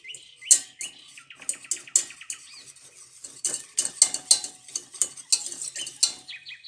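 Egg yolks are mixed in a bowl for a Prague cake, with busy, rapid scraping and clinking strokes that come in uneven bursts, close and fairly loud, with no one talking.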